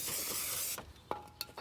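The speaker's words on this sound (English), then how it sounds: "We'll just spray it down" Brake cleaner sprays onto a new brake rotor of a 2007-2013 Acura MDX in a close, loud hiss lasting under a second, followed by a few quick clicks and a short second spurt.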